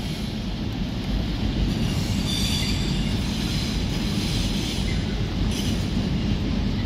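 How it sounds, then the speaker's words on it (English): A GBRF Class 66 diesel freight locomotive, number 66714, hauls a freight train past on the East Coast Main Line at Doncaster, with a loud close rumble, rolling wagon noise and brief wheel squeals, and no talk. "First freight train for today."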